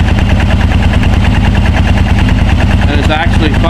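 A Yamaha Grizzly 600 ATV engine idling close and loud with an even, constant rapid firing rhythm and no misses, a brief higher mechanical whine near the end.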